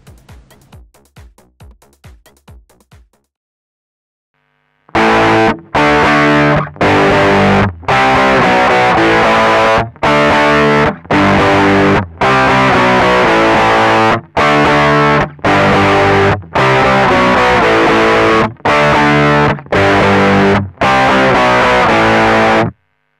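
Electric guitar played through a 1990s BOSS TM-7 amp simulator with distortion: a few quiet picked notes, a pause, then loud, saturated chords struck in repeated bursts separated by short silences.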